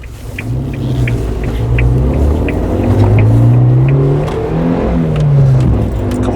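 A Suzuki Jimny fitted with a turbo with anti-lag and a straight pipe accelerates on the road, its engine droning loud and close with rising, wavering tones and no talk.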